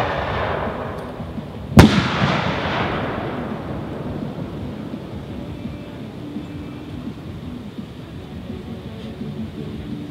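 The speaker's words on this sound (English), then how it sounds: "you can definitely tell that's a 4-inch pixie dust with purple pistol" A 4-inch pixie dust firework shell with a purple pistil bursts outdoors at a shell demo with one sharp, loud boom, followed by a long, fading crackle and rumble.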